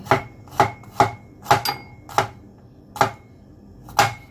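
A knife chops crosswise through cooked pork offal for pickled mustard green stew, eight sharp, loud thuds on a board at an uneven, unhurried pace, close up with no talking.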